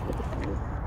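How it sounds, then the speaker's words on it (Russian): A chaffinch calls outdoors in woodland where a squirrel is being fed, a brief bird call over steady background noise, near and moderately loud. "Это зяблик. Зяблик напугал сейчас."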